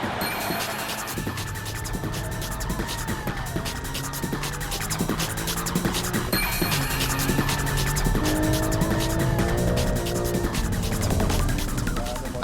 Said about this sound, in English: And now for the second lap. Can the M3 catch the Porsche? And keep your eye on the GTR.